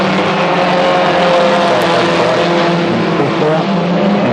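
Racing cars, a rear-wheel-drive car and a hot rod, run at a track during a show final, giving a loud, continuous engine roar with shifting pitch as they pass close by, with no talk.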